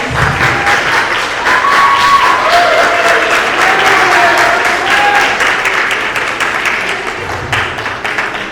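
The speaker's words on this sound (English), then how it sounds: "Let's give her a round of applause" A ceremony audience at a school Founder's Day celebration applauds in steady, full clapping that tapers slightly near the end, with faint voices mixed underneath.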